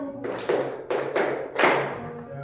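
Hands clap a short rhythmic pattern in a classroom lesson, about five sharp claps grouped in uneven beats, close and moderately loud.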